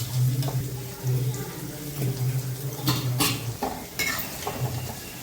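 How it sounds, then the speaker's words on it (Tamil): Onions sautéing in a pan for fish curry give a steady sizzle broken by stirring scrapes and a few sharp utensil clinks, close and fairly quiet. "வெங்காயம் நல்லா பொன்னிடமாக வதங்கி நல்லா சுருண்டு வரட்டும்"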